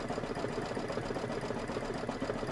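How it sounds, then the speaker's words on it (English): A sewing machine stitches a Kimberbell quilt block, a fast, even mechanical whir with a steady rapid needle rhythm, close and continuous with no voices. "This is 4 minutes of stitching because it's going around the whole thing."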